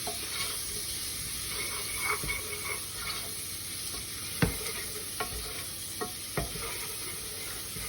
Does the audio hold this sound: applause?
no